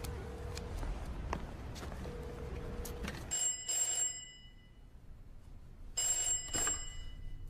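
An old-style telephone bell rings in a film scene, two bursts of bright metallic trilling separated by a pause, heard over a low background rumble.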